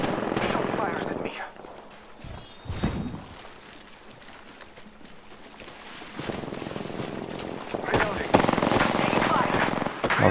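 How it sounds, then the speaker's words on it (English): Rapid automatic gunfire in a video game, loud bursts that rattle on and off and build to dense sustained firing near the end, layered over busy game noise. "They're shooting at me."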